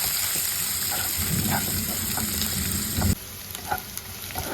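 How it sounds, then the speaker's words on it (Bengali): Chopped onion hisses and crackles in hot oil, a steady sizzle with a few spoon scrapes, and the frying continues more quietly at the end. "পেঁয়াজটা হালকা ভাজা ভাজা করে নেব"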